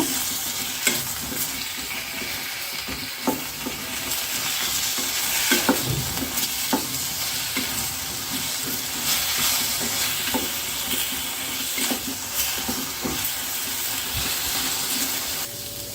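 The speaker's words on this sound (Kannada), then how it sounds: "ಸ್ವಲ್ಪ ನೀರಿನಂಶ ಇದೆ ಹಾಗಾಗಿ ಸ್ವಲ್ಪ ಚಟಪಟ ಅಂತ ಸೌಂಡ್ ಬರ್ತಾ ಇದೆ" Brinjal frying in a hot pan, its moisture making it crackle and spit: a steady close sizzle with frequent sharp pops and stirring scrapes throughout, no voices.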